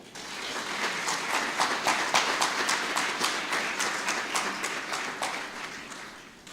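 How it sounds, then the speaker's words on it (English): A crowd applauds with dense, steady clapping that swells and then gradually fades, without any voices. "I ask you to give her a big round of applause."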